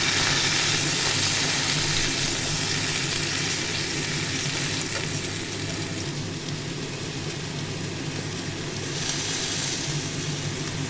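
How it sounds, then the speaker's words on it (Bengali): Long-cut pieces of pointed gourd and potato fry in oil, making a dense, continuous sizzle with faint stirring that dips a little midway and then rises again, with no one speaking. "দুটো ভেজে নেব ভালো করে লাল করে ভেজে নেব"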